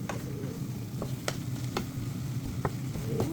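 Egg and tomato frying in a pan for breakfast, giving a soft continuous sizzle close by with a few faint ticks and taps of a utensil against the pan.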